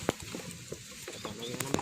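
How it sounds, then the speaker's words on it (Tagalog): A newly bought pair of pet birds makes soft, scattered chirps and calls, close by, over low background noise. "At ito naman yung bago nating biling pares ng ibon."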